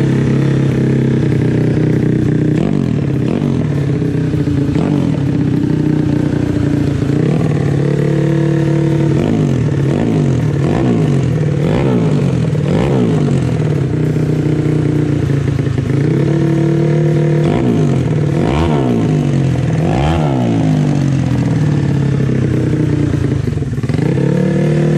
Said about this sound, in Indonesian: Kayak gimana sih ini suara motor terbaik sepanjang masa?